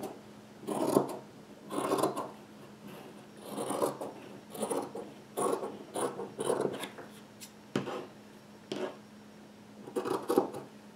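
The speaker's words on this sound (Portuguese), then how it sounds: "Então, eu vou tirar aqui. Vou cortar." Scissors cut through fabric for a handmade bag, making about ten rhythmic rasping snips close up with no voices.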